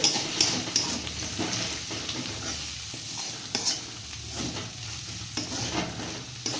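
Spices and ginger fry lightly in a pan while being stirred, a steady close sizzle broken by repeated scraping strokes of the spoon, with no talking.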